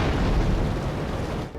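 A car blows up in Grand Theft Auto: The Trilogy – The Definitive Edition, a single loud, sustained boom and rumbling burst that fills the whole clip before fading slightly at the end.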